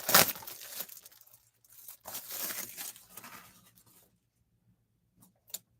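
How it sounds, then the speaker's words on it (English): Cellophane wrap torn off a sports memorabilia package during a live card break, with crisp crinkling and ripping bursts in two main stretches, close and fairly loud, then near silence with one last short crackle. "Cellophane wrapping first. All right, here goes the cellophane."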